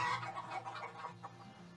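Chickens cluck softly in the farming video game Farthest Frontier, a few short overlapping clucks and murmurs over faint game background sound.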